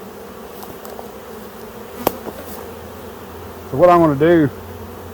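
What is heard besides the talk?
honeybees buzzing around nuc hive frames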